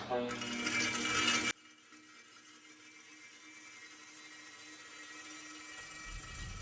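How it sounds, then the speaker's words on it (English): A Hercules 8-inch bench grinder bites into an old lawnmower blade in a loud, harsh grinding burst lasting about a second and a half, then the motor keeps whirring on alone, much quieter. "I got a old lawnmower blade and we're going to stick on it and see how powerful this thing is"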